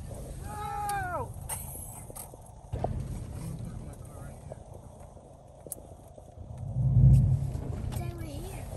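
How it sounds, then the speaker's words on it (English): Horse hooves clip-clop at a family farm, moderately close, with voices talking over and around the steps and a louder thump near the end. "That's a horse."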